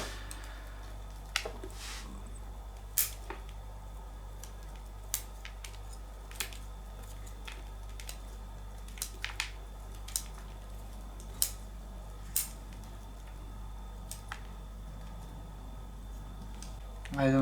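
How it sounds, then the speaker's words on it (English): Scissors snip through thick roots of a Ficus bonsai during repotting, a series of sharp isolated clicks and crunches spaced a second or two apart over a low steady hum. "I will cut these thick roots."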